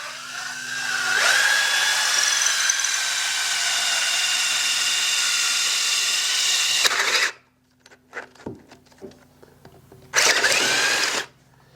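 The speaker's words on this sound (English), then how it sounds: "Another thing to do is drill backwards through it" A power drill whines steadily for several seconds as it bores through a metal transmission bellhousing on a buggy, then stops, followed by clatter and a second short burst of drilling.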